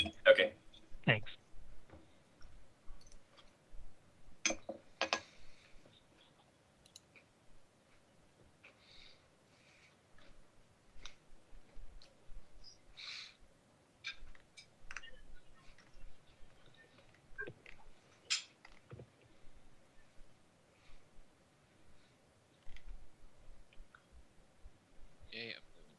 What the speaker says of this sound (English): Someone's typing furiously.